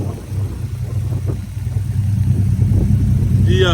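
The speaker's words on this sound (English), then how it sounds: "But it idles smooth, it sounds great." A 2006 Dodge Ram 1500 SRT10 pickup with stock exhaust manifolds and an aftermarket cat-back exhaust idles smoothly, giving a close, steady low rumble. A brief high chirp sounds near the end.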